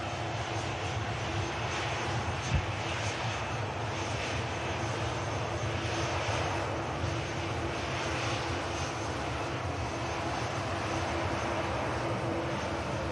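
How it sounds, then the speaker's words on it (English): Steady, broad jet roar of a Boeing 737 on a positioning flight at Manchester Airport, a continuous rumbling hiss heard from a distance with no clear rise or fade. "this is the positioning 7-3. Aircraft positioning up to Leeds Bradford."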